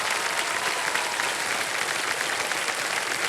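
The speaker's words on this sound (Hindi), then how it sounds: "तालियां बज जाएं चलो" Studio audience on the game show KBC applauding, a dense steady burst of clapping lasting a few seconds with no talk over it.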